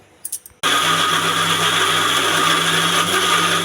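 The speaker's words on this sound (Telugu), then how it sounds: "మిక్సీ వేస్తానండి." A kitchen mixer grinder whirs into a loud, steady high-pitched drone after a few short clicks as it blends tomato, roasted gram, salt and a little water into chutney.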